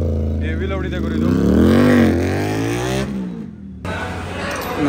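Loud exhaust of an Aprilia RS 457 motorcycle revving up and holding a sustained engine note close by, with a brief dip before the roar resumes; people talk over it.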